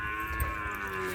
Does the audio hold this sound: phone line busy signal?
no